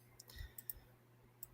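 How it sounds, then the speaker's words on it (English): Faint, sparse keystrokes on a computer keyboard: about half a dozen light clicks spaced irregularly in an otherwise quiet room. "I noticed just typing it in"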